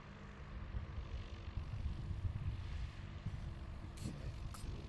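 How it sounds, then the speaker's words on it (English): A Cessna light aircraft approaches, its low, steady propeller-engine drone fairly faint and distant, holding evenly throughout without voices. "probably the Cessna's coming back"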